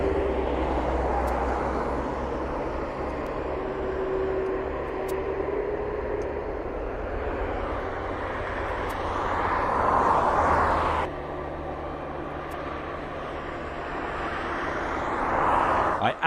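Aircraft at a local airport, a steady engine roar running throughout with a slight swell toward the middle and end, heard at a moderate distance.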